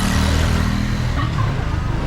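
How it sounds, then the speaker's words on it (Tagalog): A motorcycle on an outdoor village road sends out a steady, loud low engine drone that carries through the whole moment, with no voices over it. "Oh, may motor."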